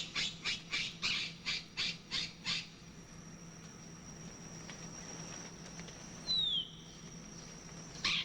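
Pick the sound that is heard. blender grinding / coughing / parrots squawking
parrots squawking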